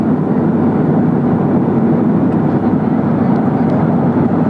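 Cabin noise of an airplane in flight near coastal mountains, a loud steady broadband roar of engine and airflow filling the whole stretch without change, with no talking.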